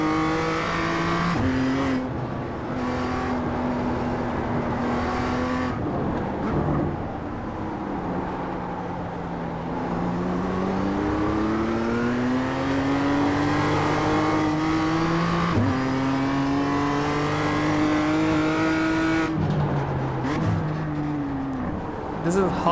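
A BMW M2 race car in iRacing at Ledenon, its engine revving up and down through gear changes with a steady mechanical whine, close and prominent, while a person talks over it.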